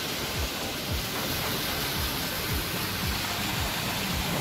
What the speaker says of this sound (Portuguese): que delícia de cascata.